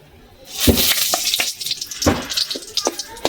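Dried chilli and a bay leaf drop into hot oil left after frying shrimp. A burst of sizzling swells quickly, then crackles and spits irregularly, with a few sharp pops.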